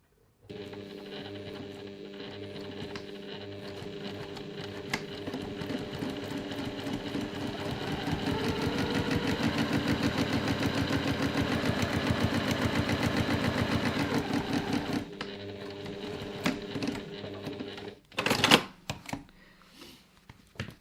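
Sewing machine top stitching along the top edge of a reusable fabric grocery bag at a 3.1 stitch length: a rapid, even mechanical whirr that runs steadily for about fifteen seconds, then stops, followed by a few brief clunks and handling sounds.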